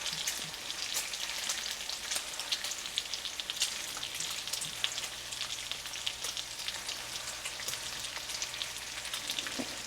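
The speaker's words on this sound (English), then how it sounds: "Kind of break it up a little bit here to make it scrambled." Scrambled eggs fry in a pan with a continuous, close crackling sizzle, fine pops scattered through it and an occasional faint stir, with no one speaking.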